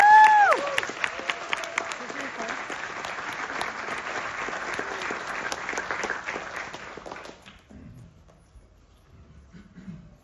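An audience at a Georgia Tech spring graduation ceremony claps in a sustained burst, with a voice and some whoops over the start, then the applause fades out and leaves near silence at the end.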